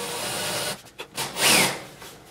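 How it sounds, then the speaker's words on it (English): A Forstner bit drills into a wooden baseboard on a CNC machine build with a brief whirring grind that rises and fades, close and moderately loud, with no voices. "you're going to drill until you're just flush"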